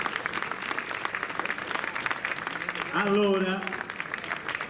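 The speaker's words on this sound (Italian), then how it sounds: "ci facciamo un bel applauso nuovo" An audience applauds at an evening event, a steady, moderately loud patter of many hands clapping throughout, with a voice briefly speaking over it partway through.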